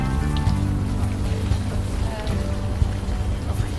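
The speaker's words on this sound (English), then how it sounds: "Still raining." Rain falls in the video game Unavowed, a constant loud patter that fills the whole stretch, with a low musical drone underneath.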